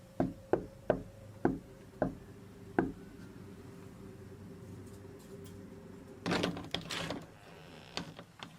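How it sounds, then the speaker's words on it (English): Six sharp knocks on a house door land in a quick, slightly uneven sequence, followed by a pause and then softer shuffling and bumping noises close by. "let's go knock on Bailey's door"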